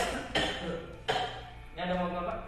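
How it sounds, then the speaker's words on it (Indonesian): A patient doing effective cough training coughs three times in short, close bursts spaced about a second apart, each sharp at the onset and fading quickly, in a quiet room. "Lagi Pak, tarik nafasnya lagi, batukkan ya."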